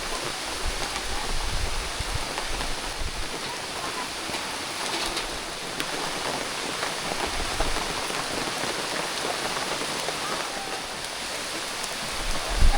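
Sudden rain falls steadily in Senegal, a dense continuous patter on surfaces heard close and alone, with a faint bird calling in the background.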